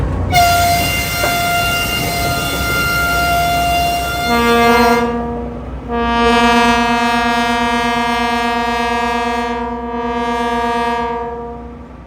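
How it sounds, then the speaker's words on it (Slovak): A diesel freight locomotive of a type used on former Soviet lines sounds its chord air horn at a locomotive show in Bratislava, several loud sustained blasts with shifting pitch, near and alone. "Skús nám zatrúbiť, Sergej, ešte."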